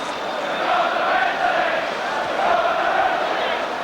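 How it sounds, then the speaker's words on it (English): A large crowd at Everton's 1985 home match against Newcastle roars and chants steadily in a stadium, a dense sustained wall of shouting with rising swells throughout. "They're shouting now, they're going to win the league."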